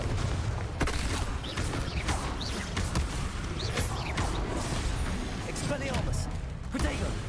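Confringo blasting spell cast in Hogwarts Legacy, a dense clatter of repeated blasts, crashes and impacts running continuously, with spoken voices mixed in throughout the combat.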